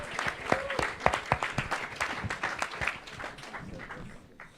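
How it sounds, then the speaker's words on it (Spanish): Audience applause at a talk on the history of Mexican punk, dense clapping filling the room steadily and tapering slightly toward the end. "Un aplauso para este recuerdo del trabajo de Rebel de Punk."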